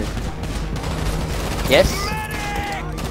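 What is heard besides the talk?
gunfire in GTA V video game casino heist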